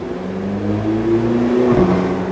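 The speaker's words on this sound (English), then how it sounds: "There's so much mechanical noises going on from that naturally aspirated V8." Heard from inside the cabin, the naturally aspirated V8 of a Porsche 918 Spyder revs loud and steady, its pitch climbing slightly before a brief dip.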